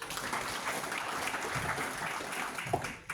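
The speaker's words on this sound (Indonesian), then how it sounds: "Tepuk tangan lagi." A church audience in an Indonesian fellowship meeting claps together, a fairly soft, even spread of applause heard at a slight distance that thins out at the very end.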